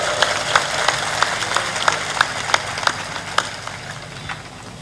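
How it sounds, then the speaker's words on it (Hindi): Audience clapping at a Hindi devotional gathering, with sharp irregular claps that rise and fall over steady crowd noise, moderately loud throughout, with no talk over them. "जोर से ताली बजा दिया करो।"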